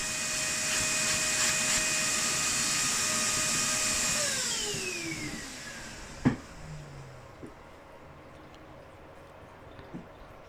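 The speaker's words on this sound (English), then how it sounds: "We'll just hoover that straight off." Vacuum cleaner hoovering debris inside a Rolls Royce Silver Cloud during restoration, a steady loud whine that drops in pitch and winds down midway, followed by a few faint knocks and thumps.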